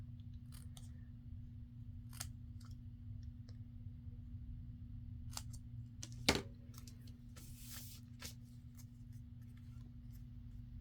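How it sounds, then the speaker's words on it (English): Scissors trim the end off a paper strip for a folded embellishment: a few faint, crisp snips and clicks over a steady low hum, with one sharper cut near the middle. "Let me just trim that end off."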